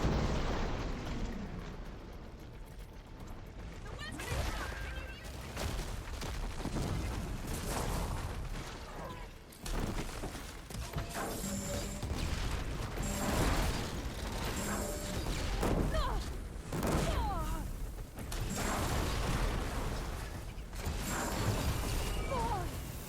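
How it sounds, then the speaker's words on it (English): Repeated explosive blasts from a disc launcher weapon in the video game Horizon Forbidden West, loud booms and crashes recurring through dense combat noise with mechanical clanks. "Disc launcher."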